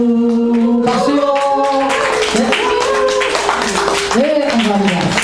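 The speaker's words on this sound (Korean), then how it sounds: "박수요." A church congregation claps together at a birthday celebration. Steady hand claps run alongside singing voices and overlap with loud group vocals throughout.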